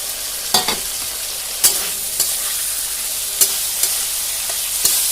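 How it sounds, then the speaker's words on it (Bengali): Pointed gourd being added to and fried in a hot poppy seed spice paste in oil, giving a steady close sizzle with several sharp clacks of stirring or a spoon against the pan. "এই সময় আমি দিয়ে দেবো পটলগুলোকে"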